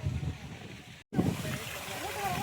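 A 3000W BLDC borewell pump, set 300 feet down, pushes water hard out of a 1.25-inch pipe outdoors in light rain, giving a steady rushing splash that fills the clip and breaks off for a moment near the middle.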